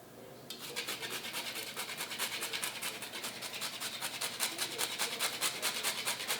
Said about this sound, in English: And I have whole nutmeg, of which I will be grating